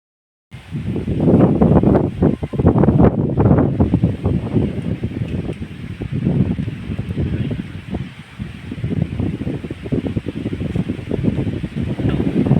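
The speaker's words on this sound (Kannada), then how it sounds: "ಗಾಳಿ ನೋಡಿ ಗೈಸ್, ಎಷ್ಟು ಜೋರು ಬೆಳಿಗ್ಗೆ ಬೆಳಿಗ್ಗೆ ಫಲಗಾಲಿ ಬೀಸ್ತಾ ಉಂಟು" A strong morning wind roars and buffets the microphone almost nonstop after a brief silent start, loud and close, surging and easing in gusts, with no voices.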